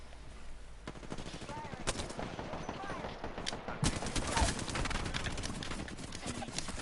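Video game gunfire, with rapid, dense shots and bursts layered over constant background noise and brief game voice lines.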